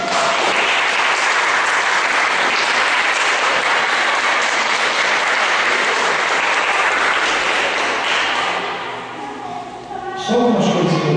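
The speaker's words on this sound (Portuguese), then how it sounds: "Você pode aplaudir o Espírito Santo?" Loud, sustained applause from a standing church congregation during an evening worship teaching service, dense clapping that tapers near the end as a voice begins to speak.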